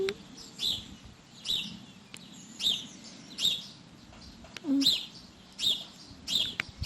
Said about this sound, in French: les oiseaux, là, on va se calmer. On n'est pas obligé de chanter aussi fort, là.